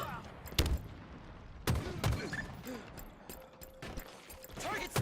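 Gunfire in a Halo game firefight: a few sharp loud shots spaced apart, with rapid smaller bursts between them, under game voices and a player speaking.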